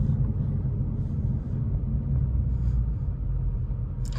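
Ford Mustang Mach 1 with the 5.0 V8 cruising from inside the cabin, a steady low engine rumble with road noise, fairly quiet and even throughout.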